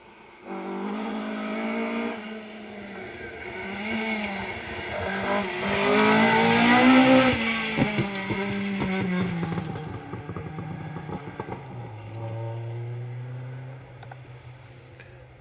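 A Mark II Ford Escort rally car approaches from a distance on a Welsh Rally Championship stage, its engine note rising and swelling to a loud peak before settling into a steady drone as it passes.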